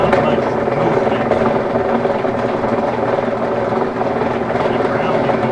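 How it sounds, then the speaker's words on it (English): A Maytag washing machine transmission grinds while being spun by hand, a dense continuous rumbling roar that stays steady and loud throughout. "As I hold it and spin it, I can feel and hear the grinding."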